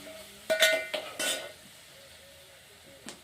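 A spoon scrapes and clinks against a pan while fried onion, tomato and turmeric are stirred, giving a few quick metallic knocks early and then a quieter stretch with one last tap.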